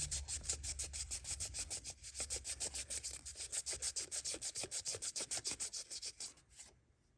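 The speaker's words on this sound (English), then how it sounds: "But you just keep sanding away." A truck door is sanded by hand to take out scratches, producing a steady back-and-forth rasping rhythm of close, even strokes that speeds up a little and then stops near the end.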